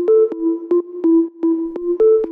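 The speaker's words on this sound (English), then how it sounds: "It's a sine wave going through a bit of drum bus to give it some character" A short, clean sine wave tone made in Ableton Operator pulses in a steady tech house rhythmic pattern, each note clipped by a sharp percussive attack, with slight warm Drum Buss saturation and space around it.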